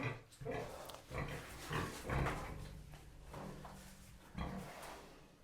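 Pigs in a pen on a farm grunt and snuffle in a run of rough, close bursts, with some clattering in between and a faint background hum.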